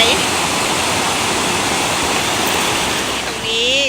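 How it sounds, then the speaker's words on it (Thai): A clear forest stream by a natural waterfall pours with a loud, steady broadband rush of water, unbroken and close, and a brief voice rises faintly near the end. "ลำธารก็สวยใส"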